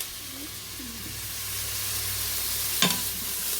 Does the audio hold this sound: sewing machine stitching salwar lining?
no